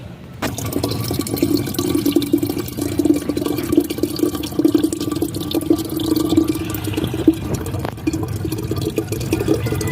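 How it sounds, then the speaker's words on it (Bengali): Water running steadily into a container to fill it for chickens, a continuous close splashing and gurgling stream with a few sharp knocks, no speech. "পানিটা আগে ভরে নিই"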